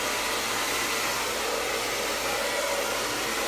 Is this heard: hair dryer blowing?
yes